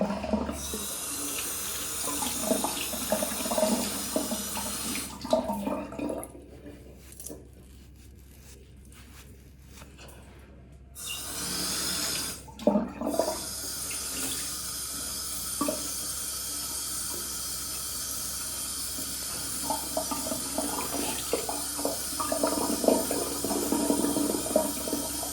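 Cool tap water runs steadily into a sink while a face is washed, with a brief break in the flow midway, then continuous splashing and trickling close by.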